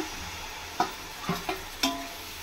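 Tomatoes fry in oil in a pan for biryani, with a soft steady sizzle under four sharp scrapes of a spoon stirring, spaced irregularly and close by.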